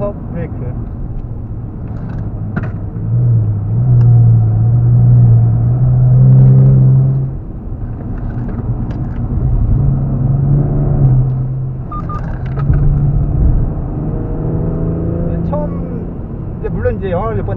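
A Kia Stinger 3.3 turbo AWD accelerates around the Inje Speedium race circuit, its engine drone rising and falling in pitch from inside the cabin, while two people talk over it.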